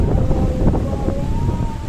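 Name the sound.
strong wind storm at Gandoriah beach, Pariaman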